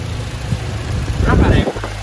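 A 2015 Toyota Fortuner with a 2.7-litre petrol engine idles steadily at close range, a low continuous rumble with someone talking over it throughout.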